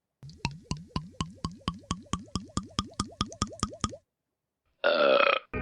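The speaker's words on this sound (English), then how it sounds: "I think mine might be the loudest. I know I won the belching contest at work." During a burping contest, a rapid, evenly spaced train of about fifteen wet plopping pulses is followed, after a short silence, by one brief, loud, rough belch-like burst.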